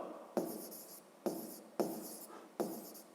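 A pen writes out a math solution on paper in four distinct scratchy strokes, each starting sharply and trailing off, close and quiet with no talk.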